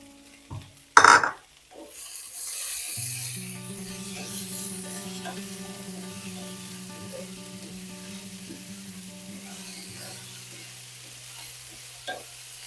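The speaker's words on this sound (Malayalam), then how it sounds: "നമ്മളെ വെണ്ടയ്ക്കയും ഉള്ളിയും ഒക്കെ നല്ലതുപോലെ വഴന്നു വന്നിട്ടുണ്ട്" Sliced okra and onion sautéing in a pan, a steady soft sizzle lasting several seconds after a brief clatter of utensils at the start, close and continuous with occasional light scrapes and no talk.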